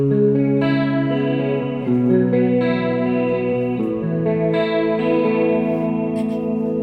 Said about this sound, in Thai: เป็นคอรัสหวานๆเลย